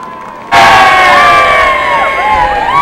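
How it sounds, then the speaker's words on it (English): A crowd at Ventura Raceway bursts into loud cheering after a mini dwarf car race, with sudden shouts and high, rising whoops sustained over a couple of seconds. "How about a nice round of applause?"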